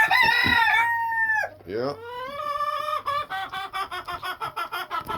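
A chicken makes a racket nearby with a loud rooster-style crow, then rapid rhythmic clucking bursts. A voice speaks briefly in between.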